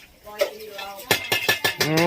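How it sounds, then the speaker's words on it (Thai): Metal clanks and taps ring out in a quick series against a wok, close by, with a voice speaking briefly in between. "ต้องเคาะกระทะก่อนนะ"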